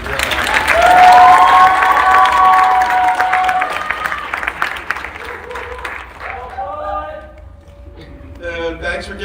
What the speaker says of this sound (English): So how about a big round of applause for Jenna?